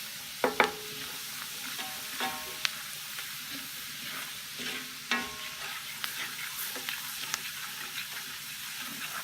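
Flour roux for white gravy cooks in a pan, giving a soft continuous sizzle broken by scraping stirs and occasional clinks of a utensil against the pan, close and fairly quiet.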